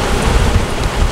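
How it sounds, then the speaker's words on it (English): Heavy storm with wind and rain while sailing in the Bahamas, a loud, steady roar of gusting wind and rain with low rumbling buffeting, no voices. "If the wind's going that way, the storm should be going that way."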